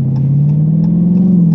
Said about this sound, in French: Et le moteur il gueule, il monte et tout, c'est génial.